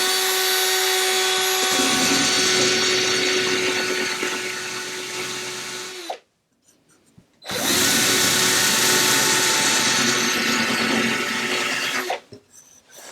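A power drill grinds into wood to cut an indentation, running loud and close in two long bursts of about six seconds each, separated by a brief pause.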